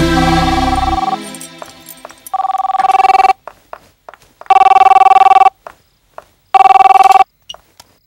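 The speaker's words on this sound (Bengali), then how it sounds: "Anjali, pick up the phone." A telephone rings in repeated electronic bursts, about three loud trilling rings spaced with short gaps, following a brief stretch of music at the start, with no talk over the rings.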